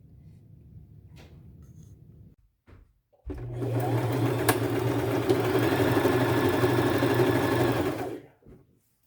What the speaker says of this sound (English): I'm just using a tight little zigzag stitch on this